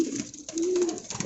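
Highflyer pigeons cooing at a pigeon farm in Dhaka, a close, low, throaty coo that swells and rolls for about a second, with no voices.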